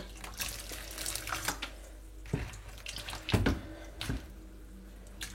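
Water pours from a tap and splashes into a mixture for a homemade NKUI hair treatment, with a few louder gushes and drips between quieter running flow.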